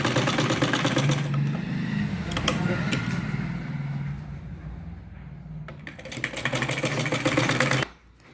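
A sewing machine stitches a blouse front panel with a fabric strip, in bursts of fast rattling needle action broken by pauses and ending abruptly, with a voice over part of it.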